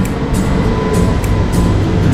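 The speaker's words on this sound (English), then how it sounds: "That's our train." Loud, heavy rumbling of a train near Oslo, Norway, with rhythmic clacks recurring roughly every third of a second as the wheels pass over rail joints, close by.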